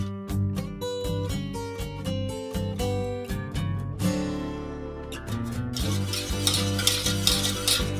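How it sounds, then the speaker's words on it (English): Egg yolks being mixed one by one into a cooled chocolate cake batter in a bowl, with rhythmic close stirring and clinking strokes followed by a softer, wetter mixing sound, no talking. "I'm just going to take the egg yolk and add them one by one and mix them well in here."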